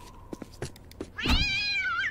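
A cat in the video game Postal 4 lets out a rising, drawn-out meow after a few soft thumps and clicks, fairly quiet and close.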